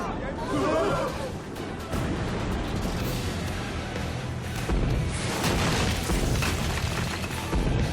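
Heavy booming cannon blasts rumble continuously through the anime scene, loud and dense, with voices and commotion mixed underneath.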